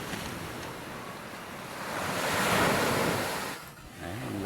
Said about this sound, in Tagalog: Lagas-las ng alon